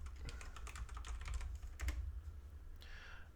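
Rapid keystrokes on a computer keyboard, clicking steadily and close up over a low background hum, with a brief soft chime near the end; no talking.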